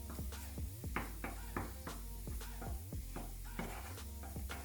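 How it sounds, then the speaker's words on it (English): Red onions are added to garlic in a pan, and a spatula scrapes and stirs in quick repeated strokes over a continuous close sizzle. "At this point I will now add red onions."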